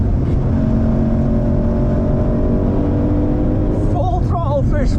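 A Shelby GT500 at full throttle on the Nürburgring Nordschleife gives a loud, steady in-cabin engine roar that holds throughout, with people talking over it.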